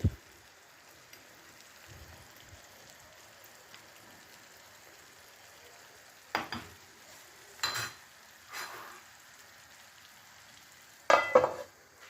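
Peas and eggs cook in a pan with a little water added, giving a faint, steady simmering hiss. A few sharp clatters of stirring break through now and then.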